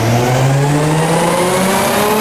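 A Nissan V35 Skyline engine revs hard on a dyno, a loud, close, steady engine tone climbing gradually in pitch before cutting off abruptly at the end.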